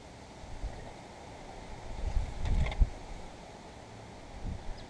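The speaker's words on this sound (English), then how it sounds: "Wind's kind of blowing, so you're probably hearing that" Wind gusting outdoors into the microphone during lawn tractor fuel solenoid work on a hot day, a steady low rumble that swells into a louder buffeting gust midway, with no talking.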